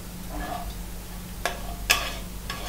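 Green chilies with salt being sautéed in a pan give a faint, low sizzle, broken by a couple of sharp spatula scrapes and clicks near the end.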